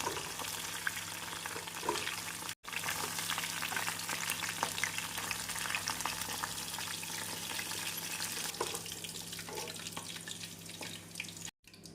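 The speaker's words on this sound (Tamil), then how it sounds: "நாம் அனைத்து காலனையும் இப்படி பொறித்து எடுத்து விடலாம்" Continuous crackling and sizzling of mushrooms deep frying in hot oil, steady and close throughout.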